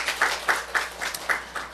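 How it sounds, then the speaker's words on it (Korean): A church congregation claps in unison during a Sunday service, six or seven evenly spaced rhythmic claps over a couple of seconds, moderately close and fairly soft. "우리 하나님께 박수 올려드려요"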